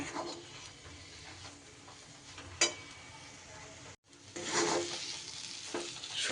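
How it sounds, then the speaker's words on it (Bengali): Dal posto sizzles and fries in oil in a wok while being stirred, a steady close crackle with scraping strokes, a brief pause, then louder continuous frying. "কড়াই থেকে আমার ডাল কিন্তু একদম আলাদা হয়ে যাচ্ছে"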